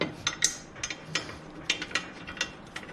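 Bolts being installed on a quick disconnect dock during a rebuild, heard as a series of sharp metallic ratcheting clicks in irregular bursts, close and fairly quiet with no talk.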